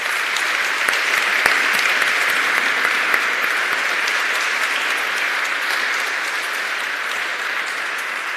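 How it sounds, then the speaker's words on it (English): Audience applause at an award gala fills the room, a steady sustained wave of clapping from a large crowd, loud and continuous with no talk over it. "I'd like to ask you to step forward with a round of applause"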